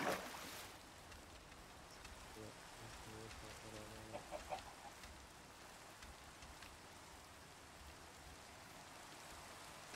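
Steady rain in the Minecraft game, heard from underwater, forms a faint continuous hiss and patter with a few brief splashy bursts in the middle and no talking.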